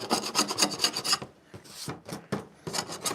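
A scraper rasping glue off a skateboard deck press, with quick rhythmic back-and-forth strokes up close, then a pause and a few slower, separate scrapes.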